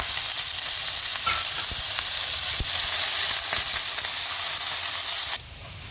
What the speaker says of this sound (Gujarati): એમાં તેલ મૂક્યું હતું અને ડુંગળી લસણ રાખ્યું છે.